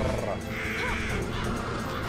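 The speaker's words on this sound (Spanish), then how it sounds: "¡Lanza cuervos!" Crows thrown by a witch in the video game Bullet Witch caw harshly over dense game noise, their cries brief and partly masked in a short, busy burst.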